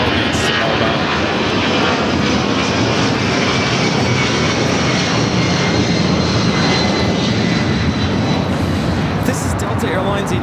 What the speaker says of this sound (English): This is Delta Airlines 8958 taking off to Philadelphia on the 757-200 charter flights.